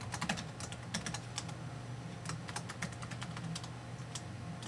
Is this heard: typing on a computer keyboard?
yes